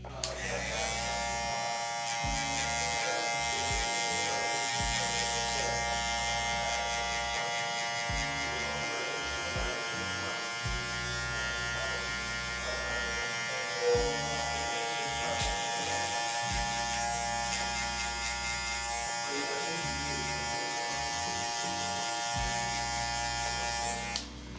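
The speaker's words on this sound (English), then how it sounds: "We're gonna begin with no guard, lever fully open." Electric hair clippers with no guard and the lever fully open, cutting 4C hair, a steady close high-pitched buzz running throughout with rhythmic drops and surges in tone as strokes pass through the hair.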